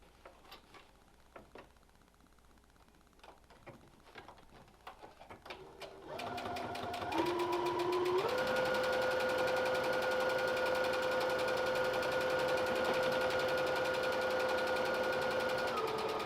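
A sewing machine top-stitches around the curve of a fabric face mask. Faint clicks and handling noises come first, then the motor starts up and runs at a steady, loud, continuous whir.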